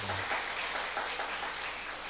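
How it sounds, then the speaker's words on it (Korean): A church congregation gives a big round of applause during a Sunday morning service, a dense steady patter of many hands filling the room without talk. "참 잘하셨다고 큰 박수 한번 해주시기 바랍니다."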